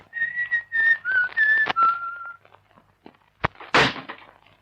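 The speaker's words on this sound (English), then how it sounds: "No, he was whistling. Whistling? Yes, like this." A person whistles a short melodic tune of several sustained notes, followed by a couple of sharp thuds like a door banging.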